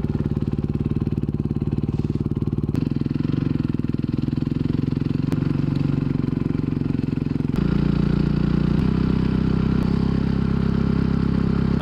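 A motorcycle fitted with enduro wheels rides along in cold conditions, its engine droning steadily and loudly up close with clicks of gear changes and a shift in pitch partway through, no talking.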